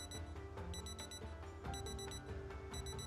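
A bedside alarm clock rings inside the survival video game Project Zomboid, its high repeating electronic beeps pulsing steadily in bursts over a constant low hum of ambient game noise, with no voices present.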